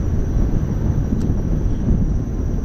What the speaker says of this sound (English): I think it stays stationary because we got some gusty winds going on here.